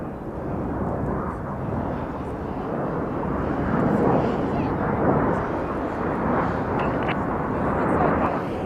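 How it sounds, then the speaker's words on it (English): A display jet sweeps past at an air show during an 11 Squadron formation routine, its broad, loud engine roar swelling and holding for several seconds, with a commentator talking over the noise. "Each aircraft pass in the middle of the display to complete the manoeuvre called Boomerang."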